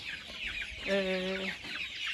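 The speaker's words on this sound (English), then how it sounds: "So this is where we are keeping chickens. These are broiler chickens." Broiler chickens clucking in a homestead coop, a cluster of clucks with one clear, sustained near call in the middle over a low background of further fowl sounds.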